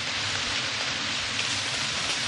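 Rain falling in an equatorial rainforest, a dense continuous hiss of drops pattering on leaves, steady and enveloping with no voices.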